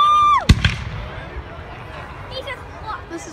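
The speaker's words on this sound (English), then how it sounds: "Fireworks go on for 10 minutes, literally." A fireworks show at night: one sharp, loud burst with a whistling rise just before it, then crackling and scattered pops that fade into a steady crowd murmur and distant booms.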